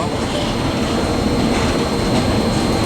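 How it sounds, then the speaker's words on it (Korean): A steady, loud rumble and roar of a freight train passing close by at Jecheon Station, continuous throughout with no pauses. "화물 열차가 지나가고 있습니다."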